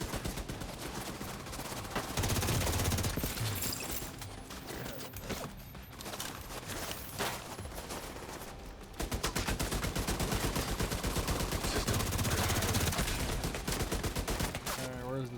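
Automated turrets open fire in The Division, with dense bursts of gunfire and mechanical clatter running almost continuously, growing heavier and louder in the second half.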